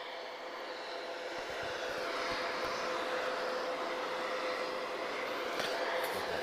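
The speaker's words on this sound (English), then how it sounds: "we've got A330 just crossing first." An Airbus A330 airliner with two Rolls-Royce Trent 7000 engines crosses a wet runway at Lisbon Airport, giving off a steady, even jet roar with a faint whine from a distance and no voices.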